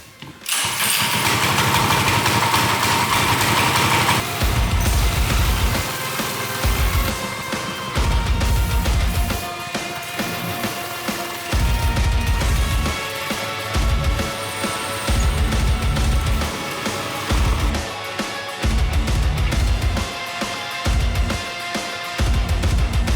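A Maverick 98 minibike engine starts with a freshly fuelled crank, then idles and revs in repeated bursts, loud and close, the small motor rising and falling in uneven pulses.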